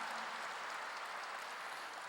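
A church congregation at a Wednesday worship service applauds together, a steady, dense clapping that holds for about two seconds at moderate volume with no talk over it.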